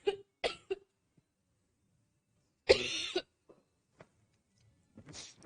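A woman coughs in short, sharp bursts, a few quick coughs at the start, then a stronger fit in the middle and another near the end, with quiet gaps between.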